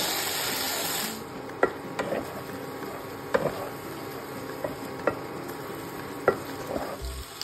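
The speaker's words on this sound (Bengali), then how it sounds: "এবারে একটু সবজি ভাজি করছি।" Vegetables fry in a pan for a home-cooked Bengali meal, a steady hiss of oil running under occasional sharp clinks and scrapes of a spatula stirring, close and fairly loud.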